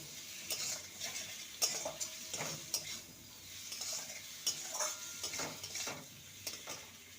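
Pointed gourd (parwal) and potato curry being sautéed in a pan, a quiet continuous sizzle punctuated by repeated spatula scrapes and clinks against the pan, with no voices.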